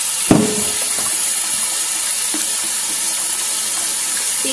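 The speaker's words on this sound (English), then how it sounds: "every time I'm done grinding, I'm just rinsing everything" Water runs steadily from a tap in a continuous hiss while rinsing a stone molcajete, with a sharp knock of stone near the start and faint clinks while rinsing.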